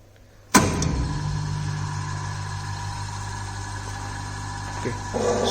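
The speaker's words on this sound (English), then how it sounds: "in order to start the motor, DOL starter is used." A slip ring induction motor switched on through a DOL starter bursts into sound with a sudden onset, then settles into a steady, close hum that holds evenly to the end.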